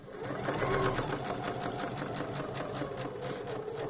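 A Necchi NM2000 computerised sewing machine stitches through paper close up in a fast, steady rhythmic chatter for a few seconds without stopping.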